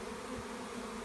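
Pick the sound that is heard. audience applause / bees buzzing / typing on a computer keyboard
bees buzzing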